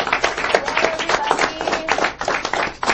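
A small audience applauds an introduced guest in a lively, dense burst of hand claps that swells and dips over a few seconds, with no voices clear above it.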